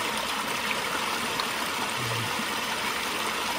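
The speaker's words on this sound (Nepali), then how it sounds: "खोलाको पानी त यही त हो है खोला पानी भयो" A river stream at Santook khola flows in a constant, dense rush of water, steady and close throughout with no talk.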